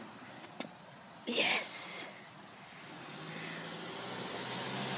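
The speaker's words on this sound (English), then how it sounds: "There's a car." A car rolls closer on a road outdoors, its faint broadband rumble slowly swelling over several seconds, after a short spoken word and a brief bright noise.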